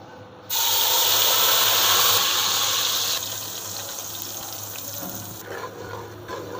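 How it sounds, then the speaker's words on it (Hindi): An onion, tomato, garlic and ginger paste hits hot oil in a home kitchen for a fish dish, setting off a sudden loud sizzle that holds for a few seconds and then settles into a quieter, steady frying hiss. "ये देखें ये भुन रहा है"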